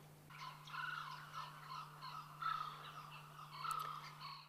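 Birds call out in a rapid, excited gobbling chorus, several bursts in a row, fairly distant over a low steady hum, along a remote Kimberley river.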